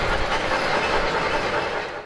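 Train rolling past with a steady, loud rumble of rail cars and a continuous clatter over the tracks, holding level throughout before easing slightly at the end.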